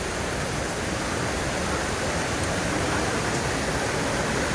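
Vera Falls in Malinao, Albay pours in a steady, dense roar of falling water, close and continuous without pause, with no voices above it.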